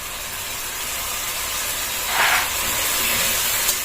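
Water mixed with ground spices such as Kashmiri chilli, turmeric, cumin and coriander pours into a hot pan, a loud steady sizzling hiss that swells briefly near the end.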